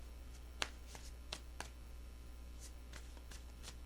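Tarot cards are shuffled in a few soft, scattered riffles and taps, faint and close over a steady low hum, with no voices.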